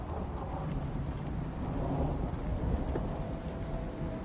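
A continuous low rumble of thunder rolls beneath steady rain in the video game Icarus, a dense, dark storm sound with no voices.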